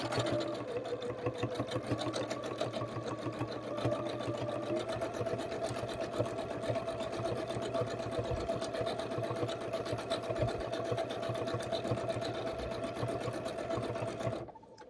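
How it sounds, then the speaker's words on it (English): A Janome sewing machine doing free motion stitching whirs continuously at a steady fast pace, close and even throughout, then stops abruptly at the end. "Now let's sew along a little bit and see what happens."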